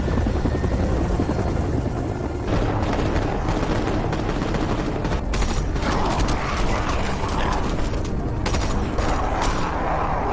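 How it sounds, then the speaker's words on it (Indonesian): A helicopter thundering overhead firing on zombies, bursts of rapid gunfire cutting through the loud rotor roar, dense and chaotic throughout. "tiba-tiba saja muncul sebuah helikopter yang langsung menembaki para zombie tersebut"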